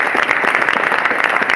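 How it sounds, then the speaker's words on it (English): An audience at a talk in an armory hall breaks into applause, a dense, continuous clatter of many hands clapping at close range that holds steady for the whole short stretch. "You can clap it up for that."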